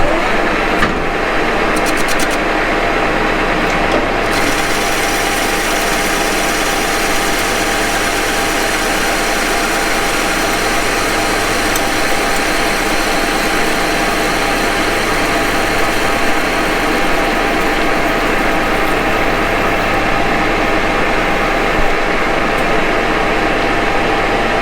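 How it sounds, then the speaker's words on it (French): A lathe takes a facing cut at 500 rpm with a 45-degree tool and a 0.4 mm per revolution feed, giving a steady, loud machine drone with a constant low hum throughout, no talking. "je commence par dresser la face comme d'habitude pour avoir une surface bien plane"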